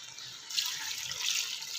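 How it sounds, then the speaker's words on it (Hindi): Water poured from a glass into a cooking pot of siri paye, a steady bright rushing splash that continues evenly throughout with no talking. "अब मैं इसको इसमें शामिल करूँगी पानी। 4 गिलास पानी शामिल करूँगी"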